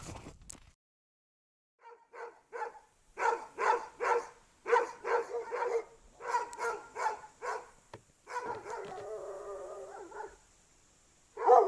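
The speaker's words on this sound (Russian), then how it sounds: "Прошу прощения, ребят, за собак, нахожусь в поселке" Dogs barking in a rural village, a run of repeated loud barks in uneven bursts, some close and overlapping, with brief pauses and a sharp bark at the end.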